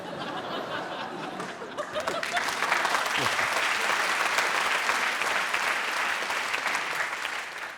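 An audience applauding at a live comedy show about sport: dense, sustained clapping that swells after a couple of seconds and stays loud throughout, with light laughter mixed in.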